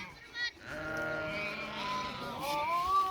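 Sheep bleat outdoors in wind after shearing, a long wavering call with harmonics over steady wind rumble, moderately near and fairly loud throughout.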